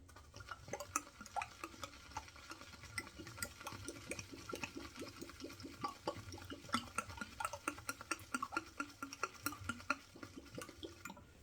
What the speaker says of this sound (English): You hear it gurgling as it's shaking back and forth in there.